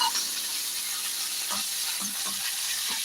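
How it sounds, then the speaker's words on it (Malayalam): Raisins fry in hot ghee for a pineapple and coconut payasam, giving a steady, close sizzling hiss with soft stirring scrapes throughout. "മുന്തിരിക്ക നെയ്യിലെ ഒന്ന് വറുത്തെടുക്കുക"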